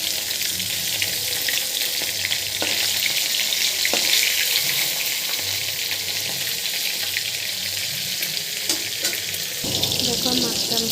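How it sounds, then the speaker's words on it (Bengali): Fish sizzles steadily in hot oil in a pan, a dense continuous crackle that holds throughout, with a few faint clinks and brief kitchen knocks and no talking. "মাছটা দিয়ে ভেজে নিচ্ছি।"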